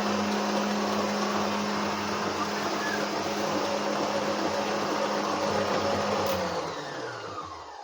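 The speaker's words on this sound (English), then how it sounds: "Giving it a touch of the mixer" An electric mixer whirs steadily through chocolate cake batter close by, a continuous motor hum that tapers off as it stops near the end.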